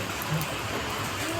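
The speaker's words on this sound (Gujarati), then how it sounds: "ધોમધકતા વરસાદની અંદર" Heavy rain pours down steadily across a hospital campus, a dense, even hiss of falling water that stays constant throughout the short stretch.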